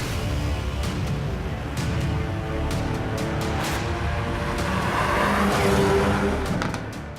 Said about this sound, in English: we're going to drive the brand new Hyundai i30 Fastback N